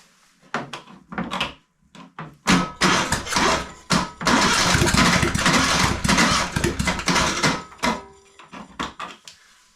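An old engine cranks over and nearly fires, sputtering in uneven bursts with a loud stretch of near-running chatter in the middle before dying back to short cranking pulses, close by and with no speech.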